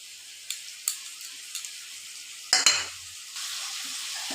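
Taro stolons fry in a pan while being stirred, a faint steady sizzle broken by a few scraping stirs and a louder clatter midway.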